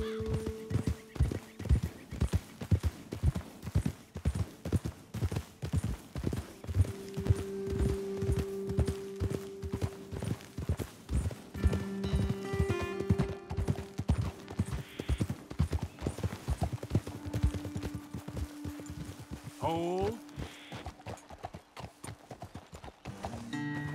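Horses' hooves clip-clop steadily along a trail in the video game Red Dead Redemption 2, a close rhythmic clatter of several animals with occasional whinnies and a faint voice.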